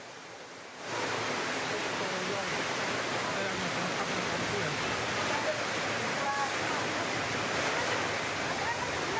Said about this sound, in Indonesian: Video amatir merekam hujan deras yang terjadi di wilayah Buleleng, Bali sejak siang hingga sore hari menyebabkan terjadinya banjir.